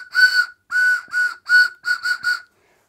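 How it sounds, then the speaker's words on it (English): A shrill toy whistle blown in seven short, uneven toots, close and loud, with brief silent gaps between blasts. "Well, obviously, it's a whistle."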